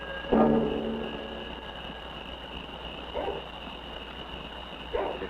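Tracking dogs on a search bay in the distance, three separate bursts of barking spaced across the clip, faint and echoing over a steady low hum.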